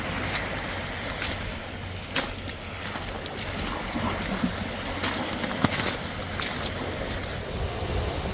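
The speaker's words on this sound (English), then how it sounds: "The next day finds us back at the ocean, which makes Haley very happy." Steady ocean surf rolls onto a beach in Alaska where mountains meet the sea, a broad continuous wash with wind buffeting the microphone and a few sharper splashes breaking through.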